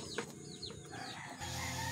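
Pet chicks peeping in short, sharp calls, several chirps close together over a steady background hum, with no one talking.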